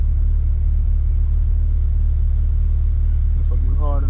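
Corvette C8 sports car cruising at speed, a steady loud low engine and road rumble filling the whole stretch, with a brief voice near the end.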